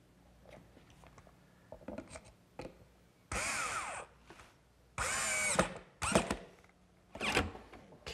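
A power drill drives screws into the base of a wooden bookcase, with a few short, separate whirring bursts between quieter clicks and handling noises, close by and fairly soft.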